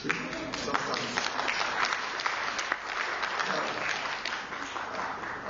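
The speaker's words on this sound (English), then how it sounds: "That's a rather tepid applause." Audience applause at a conference fills the room, a steady, moderate round of clapping from a crowd heard from within the hall, without talk.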